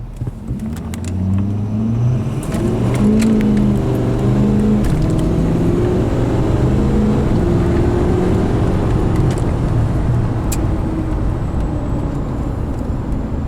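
A 2016 Ford F-350 pickup with a 6.7 Powerstroke diesel launching at full throttle, engine roaring loudly close by as rising tones climb through the gears, sustained and unbroken to the end.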